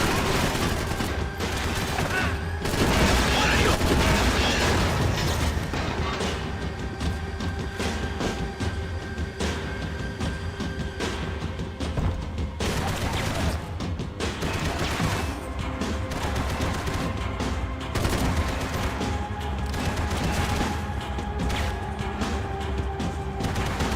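Heavy, sustained gunfire from a big gun in Max Payne 3, dense bursts of shots and crashing impacts running continuously and loud throughout, with no talk.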